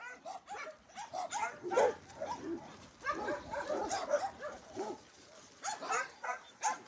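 A happy shelter dog at play gives a string of close yips, whimpers and short barks in uneven bursts, lively and fairly loud with brief pauses between.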